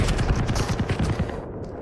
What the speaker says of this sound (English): And again, those defensive rockets